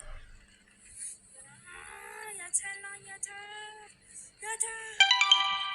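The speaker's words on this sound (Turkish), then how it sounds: "telefon diğer kapalı olan telefona bildirim geldi" A short electronic phone notification chime rings out near the end, following a stretch of quiet tonal sounds and faint background noise.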